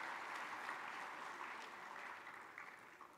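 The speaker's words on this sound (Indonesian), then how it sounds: "Mari kita beri tepuk tangan." Applause from an audience at an Indonesian ministerial event, a steady wash of many hands clapping at a distance, fairly faint and fading slightly toward the end, with no speech over it.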